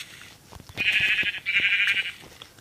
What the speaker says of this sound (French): Où tu vas, mon petit mouton?